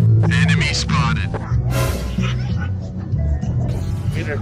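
Dogs barking and yipping on an outdoor dog socialization walk, loud and close, with a whimper mixed in and people talking over and between the barks.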